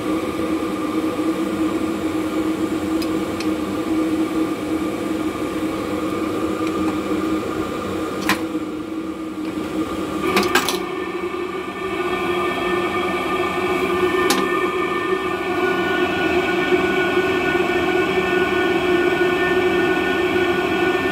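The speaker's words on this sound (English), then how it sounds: "as you can hear, it's still burning very well." A cheap Chinese 5 kW diesel heater burns a mix of vegetable oil and diesel, giving a steady, even combustion roar and fan hum with a couple of brief clicks partway through.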